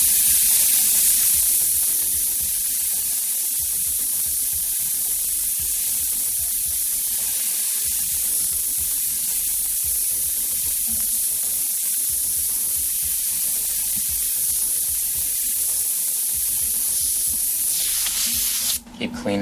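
A paint airbrush gun sprays with a loud, continuous hiss that runs almost unbroken, with a few short gaps where the trigger releases, and a brief clatter at the very end.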